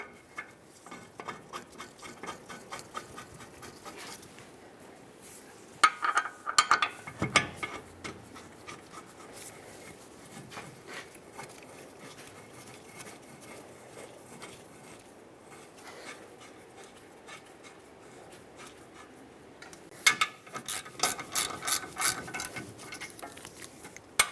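A ratchet threads in the rear brake caliper bolts on a 2014-2018 GMC Sierra 1500 pickup, giving runs of quick, close mechanical clicking with quieter pauses between bursts and no talking.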